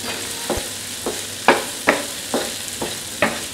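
Chicken with Italian herbs is stirred in a sizzling pan, with about eight crisp scrapes of a spoon or spatula in an even rhythm over a constant close frying hiss.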